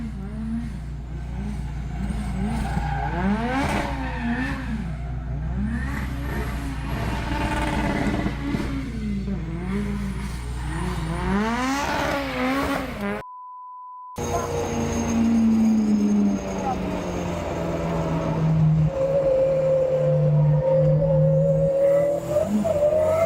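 Race cars at Brands Hatch circuit, engines revving and wailing up and down nearby with tire squeal, followed after a short gap by a lower sustained engine drone.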